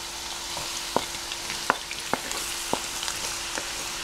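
Chopped onion, garlic and bell pepper sauté together in a pan, giving a steady soft sizzle broken by four or five sharp utensil scrapes and clinks spaced about a second apart, close by with no voices.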